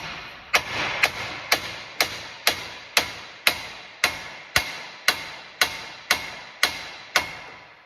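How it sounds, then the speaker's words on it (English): Sharp metallic hammer blows on a 2009-2017 Chevy Traverse part near a pulley ring out one after another at a steady pace, about a dozen evenly spaced strikes close by. "now we're just gonna hit it with the hammer"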